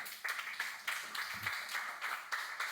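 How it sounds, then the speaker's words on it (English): An audience at a crypto business talk gives a round of applause, steady even clapping from a crowd, fairly faint and continuous. "let's give a round of applause to Nico and let him talk"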